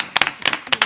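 A few people clapping at a televised show, about a second of quick, close, separate hand claps rather than full applause.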